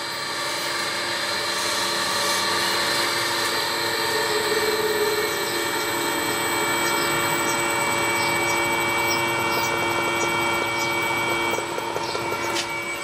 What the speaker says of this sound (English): Now the motor's going slowly.